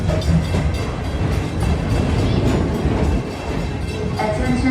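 A Magic Kingdom ride vehicle rolls along its track with a steady, continuous rumble and rhythmic clatter close by, while tones and faint background voices sit underneath.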